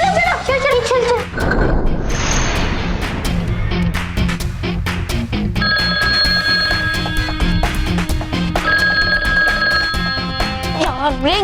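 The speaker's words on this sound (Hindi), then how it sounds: "अब तक रिंग हो रहा है।" A telephone rings on and on without being answered, in a scene from a Hindi children's fantasy series. The steady electronic trill repeats loudly over busy background music and effects.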